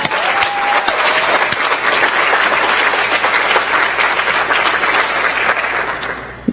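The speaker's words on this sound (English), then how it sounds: "Or you can just stand and we can all clap for you." Audience applause at a school academic achievement and scholarship awards night, a full room clapping steadily and fairly loudly for about six seconds before tapering off, with one final clap at the end.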